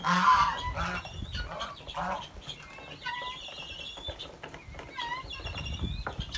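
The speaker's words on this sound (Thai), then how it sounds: "ในนี่คือไก่ต๊อกนะครับ" Guinea fowl in a backyard pen call out with repeated harsh, honking cries, several birds sounding at moderate distance amid rustling activity.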